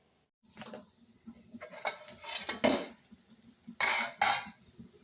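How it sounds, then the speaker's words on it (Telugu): A lid clatters onto a frying pan of small eggs, with several metallic clanks and rattles, close and fairly loud, with a couple of sharp knocks near the end. "ఫైనల్గా ఒక రెండు నిమిషాలు అయితే మూత పెడదాం"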